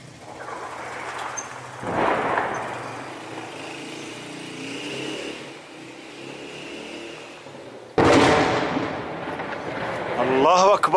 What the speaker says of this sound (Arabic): قصف على حي الساطعية والمشفى الوطني في مدينة معرة نعمان